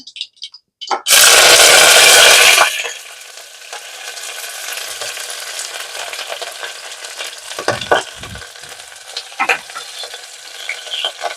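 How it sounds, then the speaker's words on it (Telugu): Chopped onions, curry leaves and green chilli drop into a hot mustard-cumin tempering with a loud burst of sizzling, which settles into a steady, quieter frying hiss broken by occasional stirring scrapes. "ఒక రెండు చిన్న సైజు ఉల్లిపాయలు కొంచెం కరివేపాకు ఒక పచ్చిమిర్చి ఇవన్నీ చిన్న ముక్కలుగా కట్ చేసుకున్నా అండి ఇవి ఇందులో వేసేద్దాం"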